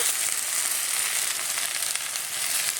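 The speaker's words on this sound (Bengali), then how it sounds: "চিংড়ি মাছের সাথে মশলার সাথে আবারও ভেন্ডিটাকে একটু নেড়ে চেড়ে নিচ্ছি।" Okra stir-fries in a pan with shrimp and spices, giving a continuous bright hissing sizzle of hot oil, close and steady with faint stirring, no voices.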